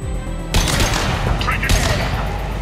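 Dense bursts of automatic gunfire in the video game Mass Effect 2 during a hangar firefight, loud rapid volleys with heavy thuds, starting abruptly after a brief quiet moment.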